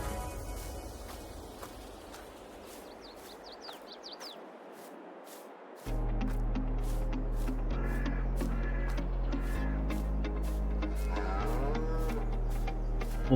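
Cattle in Farming Simulator 22 moo repeatedly in a farm setting beside new cow barns, loud low calls layered over a steady game soundscape with occasional bird caws early on.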